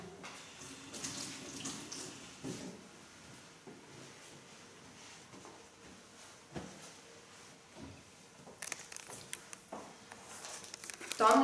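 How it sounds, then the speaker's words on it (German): Tap water runs into a sink during handwashing in a kitchen where cake pops are being made, a steady moderate wash of flow with some clatter and rustle, and a voice speaks briefly near the end. "Händewaschen."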